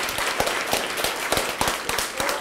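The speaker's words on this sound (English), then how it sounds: "can we get a round of applause for these filmmakers?" Dense, steady audience applause fills a world premiere screening for documentary filmmakers, with many overlapping claps at moderate loudness and no clear pauses.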